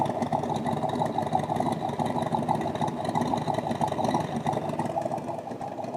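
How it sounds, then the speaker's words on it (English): A 1967 Chevrolet Corvette Stingray with a carburetted engine idles through its side pipes, giving a steady, close, rumbling burble with an even pulse and no pauses. "let you hear the sound of the side pipes"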